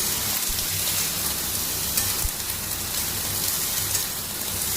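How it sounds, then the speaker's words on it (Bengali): Raw jackfruit is stirred in a frying pan, a steady dense sizzle with soft scraping movements and a couple of low knocks against the pan. "দেখতেই পাচ্ছি এঁচোড়টা এবার আমি নাড়াচাড়া করে নিচ্ছি"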